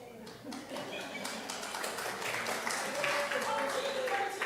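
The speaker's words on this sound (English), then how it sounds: "that was easy to get applause" An audience at a spiritual living center applauds with brisk, scattered clapping that builds and continues steadily, with voices mixed in.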